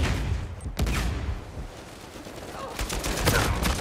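Gunfire in Uncharted 4 multiplayer, with a sharp close shot followed by a quick burst of rapid shots, all over a loud, noisy battle background.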